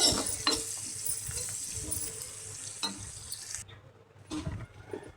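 Green chilies and onions fry in a pan in a village kitchen, a quiet sizzle mixed with stirring scrapes and clinks of a spatula, close by and without speech.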